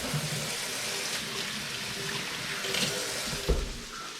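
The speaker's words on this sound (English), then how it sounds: "My hands a quick wash here." Running tap water pours steadily over hands being rinsed at a kitchen sink during home cooking, a close, even splashing hiss with a brief louder splash near the end and no talking.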